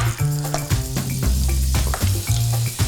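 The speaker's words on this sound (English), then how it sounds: "So we're gonna add in some butter. Let that melt" Butter melts in rendered bacon fat in a pot, giving a steady sizzle with a few stirring scrapes, partly under background music.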